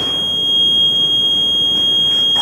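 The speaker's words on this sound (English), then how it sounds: "So it beeps at you an awful lot." A planter monitor gives a loud, steady, high-pitched electronic beep right after it is switched on. The tone holds unbroken over a faint background hiss.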